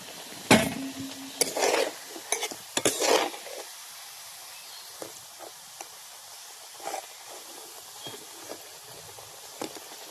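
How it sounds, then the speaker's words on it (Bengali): Dhoka lentil cakes deep-fry in oil with a soft, constant sizzle, broken by several sharp scraping and clattering utensil noises early on and lighter taps later, with no voices. "দেখো কত সুন্দর ভাজা হচ্ছে"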